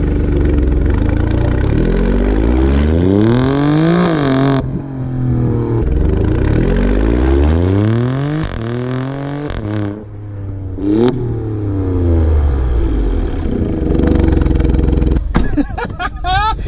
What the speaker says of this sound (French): On l'entend surtout quand il claque en fait, quand on passe les rapports et quand on accélère vraiment